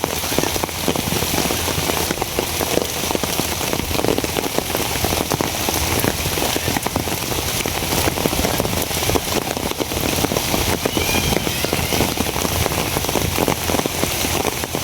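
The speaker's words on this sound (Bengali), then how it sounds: "এখন তো আপনার বর্ষাকাল বৃষ্টি হইব" Monsoon rain falls steadily and heavily on surfaces, a dense continuous patter at constant loudness for the whole stretch, with no voices.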